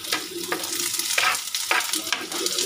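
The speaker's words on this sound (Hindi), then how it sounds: "उसके बाद मैं इसमें प्याज ऐड करती हूँ" Chopped onion sizzling in hot oil in a home kitchen pan, stirred with a spoon. A steady crackle runs throughout, broken by several sharp scraping strokes, close and fairly loud, with no voices.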